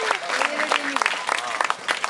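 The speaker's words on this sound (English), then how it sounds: "Let's hear a great big round of applause for Doc and our brave volunteer" An audience claps at a live parrot show, a brief round of applause with scattered cheers, while a parrot's or a presenter's voice carries over the clapping.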